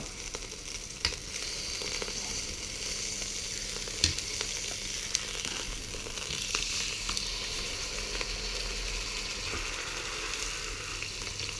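Filet mignon sizzles in hot oil in a pan, a continuous dense crackling hiss with occasional sharp pops, close and steady throughout without any talking.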